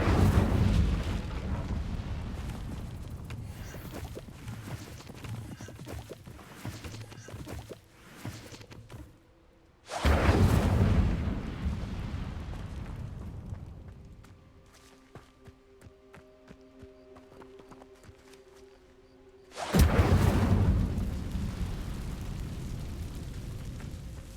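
Incendio fire spell cast in Hogwarts Legacy, heard as three loud bursts of whooshing, roaring flame, each fading over several seconds, with softer tonal game sounds in between.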